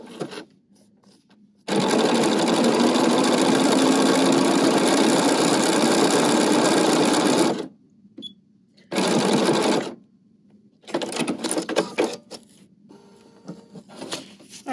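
A BERNINA sewing machine stitches a decorative X stitch in a long, steady, close-up run. After a pause it comes back in two shorter bursts, with quiet gaps between them.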